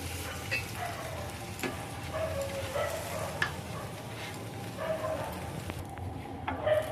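Food frying in ghee in a pan for a kheer recipe, a soft steady sizzle with occasional stirring scrapes and clinks, close and fairly quiet, no talk.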